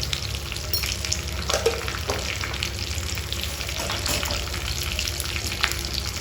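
Spices tempering in hot oil in a pan: a continuous close sizzle and crackle with faint scraping from stirring, steady throughout and without talk.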